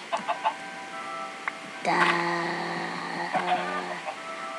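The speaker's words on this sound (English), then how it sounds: "Chicken." Chickens in the video game Minecraft give a few short, quick clucks at the start, followed by a sustained tonal in-game sound that rings out over a quiet background.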